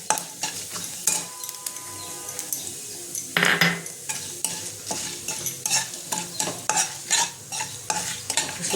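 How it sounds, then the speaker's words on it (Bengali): Whole spices, cumin, garam masala, crushed peppercorns and torn bay leaf, sizzle in hot oil for aloo dum, with repeated scrapes and clinks of a spoon stirring against the pan. "এবার আমি এর মধ্যে ফোড়নটা দেবো। দিয়ে দেবো তেজপাতাটা একটু ছিঁড়ে দেবো।"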